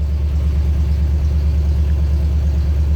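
A Ford F-100 truck's engine idles steadily with no throttle, a loud, close, even low rumble with a fast regular pulse throughout.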